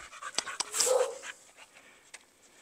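A female pit bull pants in quick, close breaths with a few soft whimpers, fairly quiet and with no talking.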